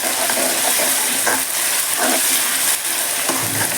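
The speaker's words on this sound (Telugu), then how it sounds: "ఇందులోకి మనము అల్లం వెల్లుల్లి పేస్ట్ వేస్తామండి" Ginger garlic paste hits hot oil with onions in a pan, producing a loud, steady, close sizzle that crackles continuously throughout.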